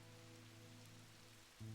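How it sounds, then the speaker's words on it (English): Soft, steady rain patters continuously under a low droning hum in the video game Strange Antiquities, with a deeper tone swelling up right at the end. "Oh, it's raining again."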